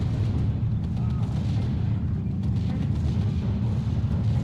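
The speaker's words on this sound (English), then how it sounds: "The off-map artillery also is hurting my advancing troops." Off-map artillery in the Steel Division WWII strategy game rumbles as a steady, dense low barrage of distant booms and blasts running through the whole stretch, with no clear gaps.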